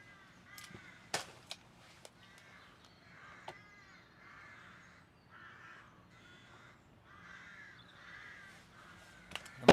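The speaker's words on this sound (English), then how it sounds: "the crows are loud, aren't they?" Several crows caw loudly outdoors in the United Kingdom, a steady run of harsh repeated calls across the whole stretch, punctuated by a few sharp clicks and knocks close by.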